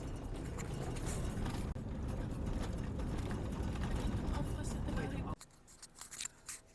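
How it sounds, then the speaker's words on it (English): Coffee mugs rattle and clink in the back of a car climbing Rössing Mountain, a busy jangling clatter over steady road and engine rumble that drops away sharply near the end. "that's not the car making that sound, it's our coffee mugs in the back"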